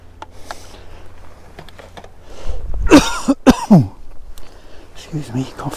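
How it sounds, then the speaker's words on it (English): A man out trout fishing by a stream coughs a few times in a close, loud burst midway through, with quieter speech before and after. "Excuse me, coughing."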